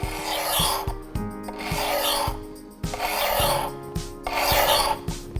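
A dull kitchen knife drawn repeatedly across a handheld knife sharpener, giving rhythmic raspy grinding strokes, roughly five or six close, loud passes with brief gaps, alone with no talk.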